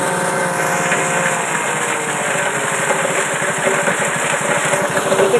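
A Multy JG 125 multifunction chopper machine's engine runs at a steady, fairly loud drone with a rapid pulsing beat, its pitch holding even throughout.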